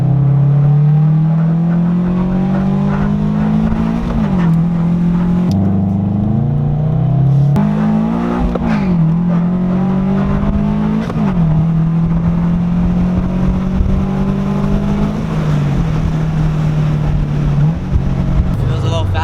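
A Toyota GT86 fitted with Tomei titanium exhaust headers revs close by, its engine note climbing and dropping in repeated pulls, loud and continuous throughout.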